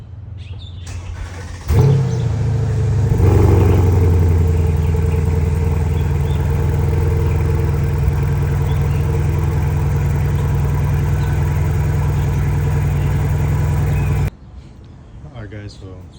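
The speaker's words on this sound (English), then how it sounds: "this is a quick little sound check right here before we actually install the titanium exhaust" A Mercedes S-Class engine fires up from cold with exhaust valves closed and settles into a loud, deep, steady exhaust rumble at idle, close by, running evenly before cutting off abruptly.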